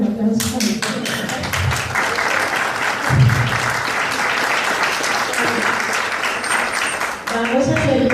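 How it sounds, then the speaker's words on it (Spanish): Audience at a gathering breaking into applause to welcome a guest, with steady, fairly loud clapping from many people and voices talking over it. "Un aplauso también."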